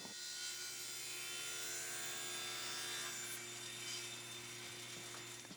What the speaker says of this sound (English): I cut some walnut into rectangles.